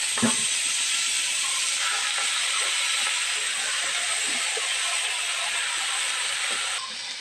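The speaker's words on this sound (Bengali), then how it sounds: "আগে থাকতে কুচানো শাকগুলো আমি তেলের মধ্যে দিয়ে দেবো" Chopped greens go into hot oil with a pinch of black cumin and sizzle with a loud, steady hiss that holds evenly throughout. A faint knock is heard near the start.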